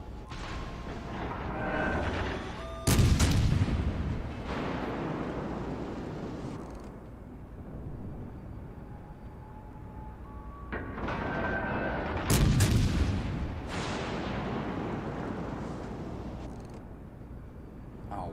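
Naval gun salvos in a warship video game, two heavy booming volleys several seconds apart, each rolling into a long rumbling decay over low background battle noise.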